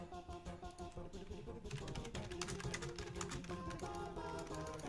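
Rapid, steady clicking of typing on a computer keyboard, close and fairly quiet, running under continuous tonal background music.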